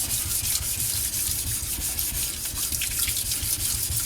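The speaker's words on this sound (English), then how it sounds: "Let me do a little bit of lapping on this." A sharpening stone is lapped with a wet, continuous scraping rub, a close and fairly loud gritty swish with faint watery trickles and no voices.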